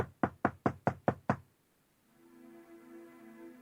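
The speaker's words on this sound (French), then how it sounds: "Il frappa à la porte." Six quick, evenly spaced knocks on a door ring out close and loud, followed by a pause and then a soft sustained humming tone.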